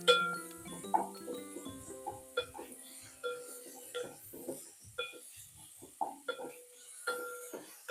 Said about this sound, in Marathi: कांदा चांगला आपण परतून घेऊया।